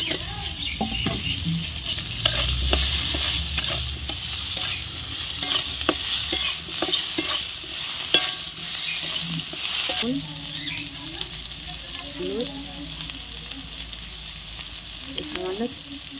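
Panch phoron spices and dried red chili crackle and sizzle in hot oil after fish has been fried, with steady frying noise, repeated stirring scrapes and a few faint chirping background sounds.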